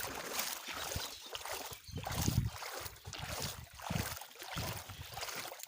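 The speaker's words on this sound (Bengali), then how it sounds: "এইভাবে পানি দিয়ে যেতে হবে।" Someone wades on foot through flood water covering a road in Assam, with a steady rhythm of sloshing, splashing steps about once a second, close and moderately loud against a faint wind hiss.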